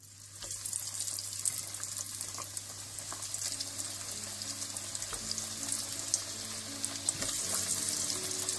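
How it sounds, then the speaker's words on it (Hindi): Chicken frying in hot oil at medium heat, a continuous dense sizzle and bubbling hiss with a low steady hum beneath and occasional light clinks, no speech. "मीडियम आंच पर तेल को गर्म कर लें और चिकन को इसमें फ्राई कर लें"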